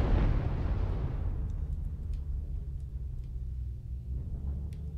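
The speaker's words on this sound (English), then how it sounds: "Airstrike goes off." A video game airstrike goes off as a single loud, close blast, its broadband roar fading into a long low rumble that rolls on for several seconds, with faint crackles scattered afterward.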